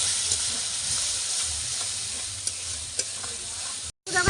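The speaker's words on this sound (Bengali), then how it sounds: "আটটা কমিয়ে পাঁচ মিনিট মশলাটা ভালো করে কষিয়ে নিতে হবে" Spice paste with Kashmiri chili powder fries in oil in a pan with a loud, steady sizzle. Occasional spoon scrapes and clicks from stirring cut through before a brief drop to silence near the end.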